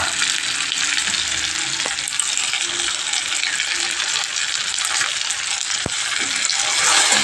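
Poppy seed paste fries with chopped onion and tomato for an egg posto curry, a dense, close hiss of sizzling with sharp metallic clinks and taps from stirring.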